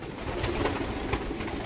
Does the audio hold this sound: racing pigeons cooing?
yes